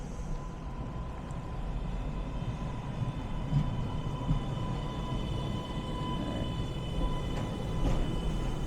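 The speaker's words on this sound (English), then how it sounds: "There's another train coming in." An MBTA B line trolley pulls in on a snowy winter day, its steady low rumble and faint whine rising slowly as it draws closer.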